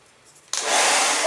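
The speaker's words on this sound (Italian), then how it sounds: "Adesso io prendo il phon e accelero l'asciugatura di tutto." Hair dryer switched on to dry paper craft pieces, starting with a sudden jump from near silence into a loud, steady, hissing blast of air that holds for the rest of the moment.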